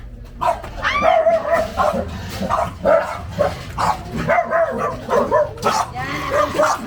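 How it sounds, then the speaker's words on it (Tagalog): Several dogs bark and yip repeatedly in overlapping bursts, fairly close and loud, with a few whimpers mixed in, at a family gathering in Sinalhan, Santa Rosa, Philippines. "Ang dami aso."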